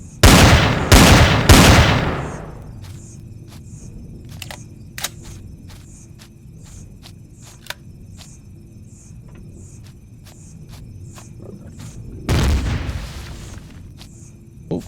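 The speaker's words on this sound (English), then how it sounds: "that one stepped out too far and the plasma cannons took it out." Plasma cannons fire in the space-survival game Empyrion, with three loud blasts at the start, then a rapid series of sharp, evenly spaced clicking shots over a low hum, and another burst near the end.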